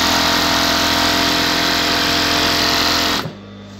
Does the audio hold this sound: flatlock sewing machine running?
yes